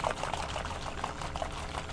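Warm water poured onto yeast gives a soft, continuous liquid splash and trickle, faint and close, with no voices heard.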